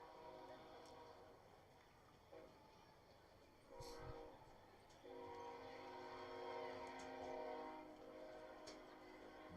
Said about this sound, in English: As you can hear the train off in the distance